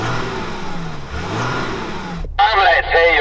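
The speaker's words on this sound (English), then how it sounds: "So, I'm going to rev up my diesel engine." A diesel engine in a pickup truck revs for about two seconds, a loud rising and falling drone, then cuts off as a sharp burst of other sound takes over.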